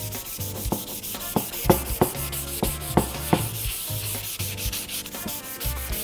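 Wood being wet-sanded with Watco oil finish, a steady close rubbing and scraping with rhythmic strokes and occasional sharper knocks, no voices.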